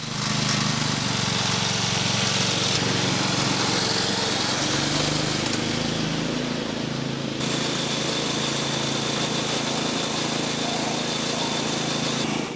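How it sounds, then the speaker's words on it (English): A 1-inch scale gas mechanical locomotive runs at full throttle on rails with new mild steel wheels, its small engine buzzing loud and steady throughout with a sharp rasping, mower-like tone. "Into gear and with full throttle, I'm off with the new wheels fighting for grip on the rails."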